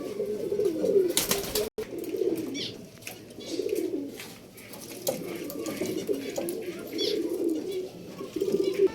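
Pigeons coo repeatedly and steadily at close range in a loft kept for ready-to-fly birds for sale, with soft chirps and a brief wing flap mixed in.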